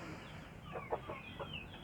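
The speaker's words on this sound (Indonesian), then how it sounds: "Jadi ayam akan mengais-ngais terus di sini" Chickens cluck softly while scratching through leaf compost, a few short faint clucks over quiet outdoor background.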